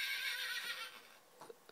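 A toy horse gives a whinnying neigh that is fairly quiet and close, fading out after about a second, followed by a few soft clicks and handling knocks.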